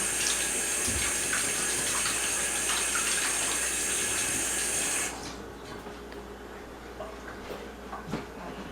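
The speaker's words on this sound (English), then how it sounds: "Let me wash my hands real quick." Hands washed under a running kitchen tap while cooking soda bread: a steady, close rush of water for about five seconds, then the flow cuts off, leaving quiet rinsing and small handling noises.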